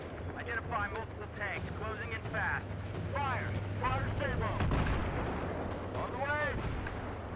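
Artillery fire in the video game Battlefield 3, heavy booming blasts rolling under continuous radio chatter and shouted commands, with a steady low rumble throughout.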